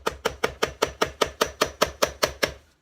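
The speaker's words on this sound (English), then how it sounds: "Right now, I'm just going to take a chisel" A chisel tapping along the seam of a concrete rock urn mold, about a dozen sharp, evenly spaced hammer-like taps in steady rhythm, close and clear with no talk.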